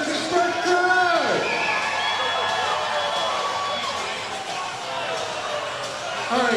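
A crowd cheers and shouts through a football kick attempt at an indoor game, a loud continuous roar with whoops and individual voices rising over it.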